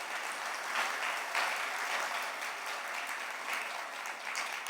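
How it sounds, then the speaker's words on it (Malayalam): A church congregation claps their hands together in praise, a steady dense wash of applause from many people at a moderate distance, lasting several seconds with no voices over it. "ഒന്ന് കൈയടിച്ചു കർത്താവിനെ മഹത്വപ്പെടുത്തിക്കുക"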